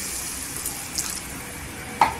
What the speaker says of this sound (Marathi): इथे पाणी टाकायचं